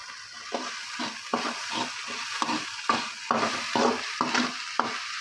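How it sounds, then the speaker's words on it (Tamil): Tomato goes into a pan of kothu parotta with egg, and a spatula stirs and scrapes it in repeated quick strokes over a soft, steady sizzle, close by with no talking. "தக்காளி சேர்த்துட்டு கொஞ்சம் பரட்டணும்."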